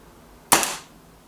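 A Kral NP-02 laminate-stock air rifle fires a single pellet at a target card, a sharp, close crack that decays quickly into a short tail against a quiet background.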